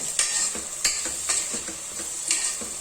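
Chopped onions drop into a hot oil tempering for avrekalu usli, a field bean stir-fry. A constant hiss plays under regular spoon scrapes and taps against the pan, close by, with no talking.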